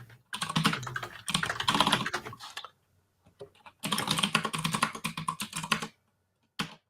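Bursts of rapid keystrokes on a computer keyboard while entering an SSH command in a terminal, two long runs of clicky typing separated by pauses, close and fairly loud, with a final short tap.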